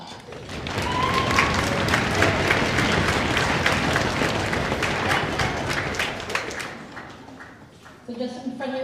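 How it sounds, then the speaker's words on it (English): An audience at a school elementary band concert breaks into sustained, dense clapping that swells, holds for several seconds and then fades, followed by a person beginning to talk. "So let's give your parents a great applause."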